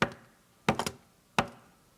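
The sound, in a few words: wolf knocking on a brick house door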